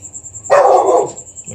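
One loud, close dog bark breaks a quiet room with a faint steady hum.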